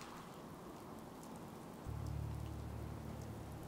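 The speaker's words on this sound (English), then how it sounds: "Hope this rain lets up soon." Steady rain falls in the video game Fallout 4, a continuous even hiss that swells slightly midway as a low droning hum enters underneath.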